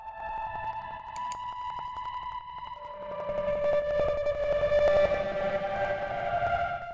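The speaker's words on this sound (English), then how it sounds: "some super spacey synths with a lot of texture" A spacey, textured synth sample with eerie reverb plays sustained tonal layers, then shifts into a brighter held chord with a pulsing, shimmering texture and a long reverberant tail, moderately quiet and alone.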